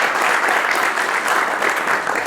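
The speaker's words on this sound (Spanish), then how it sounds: "Aplausos para el maestro." Applause for a distinguished professor at a formal Spanish-language academic ceremony, a dense steady round of clapping from a seated audience, close and sustained.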